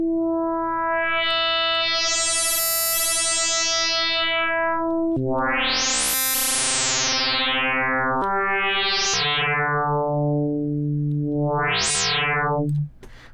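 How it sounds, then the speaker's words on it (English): A sustained synthesizer note with FM modulation being raised, its bright, metallic overtones sweeping up and falling back several times, growing harsh and buzzing, played alone and loud. "if I play a note and bring up the FM"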